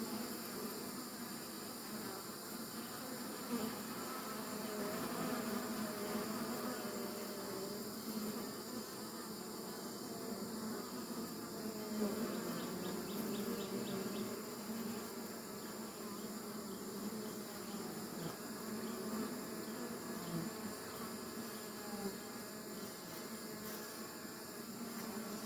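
A honeybee swarm gathered on a table top with sweet pepper bush blooming nearby, producing a dense, steady buzzing hum that stays even throughout without speech.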